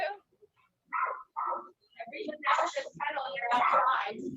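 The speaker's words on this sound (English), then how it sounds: "this is where we house some of the dogs while they're cleaning" Dogs in a shelter kennel give short yips, whimpers and barks in uneven bursts, close and fairly loud, with a person talking among them.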